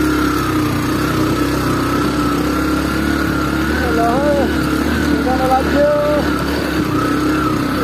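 A motorcycle rides along a damaged rough village road in Nepal, its engine droning steadily and close throughout, with people talking over it.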